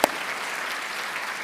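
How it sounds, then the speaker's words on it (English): Applause from an audience at an admitted students open house, a dense, steady patter of many hands clapping throughout, fairly close and alone. "Yes, we are clapping."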